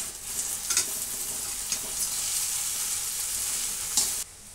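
Sabudana khichdi with potatoes sizzles in a pan while a spoon stirs it, a steady close frying hiss broken by a few sharp scraping strokes, then cutting off abruptly at the end.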